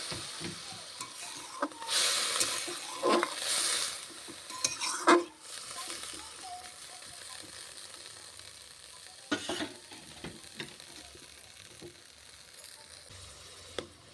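Water splashed into a hot pan of cooking eggplant and potato hisses and sizzles, with spoon-stirring scrapes and metal clinks. Steady frying crackle continues underneath, and no one speaks.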